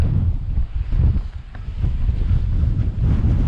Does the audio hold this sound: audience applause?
no